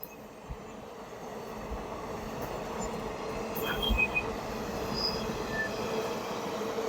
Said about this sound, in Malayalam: ട്രെയിൻ പോയിട്ട് ക്രോസ് ചെയ്യാൻ പറ്റുള്ളൂ.